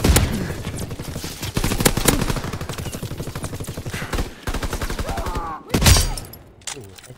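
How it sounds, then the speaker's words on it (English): Video game gunfire crackles in fast, dense bursts, loud and close, with rattling automatic volleys and a few sharper blasts near the end, while a voice speaks over parts of it. "I just shot this thing in the head"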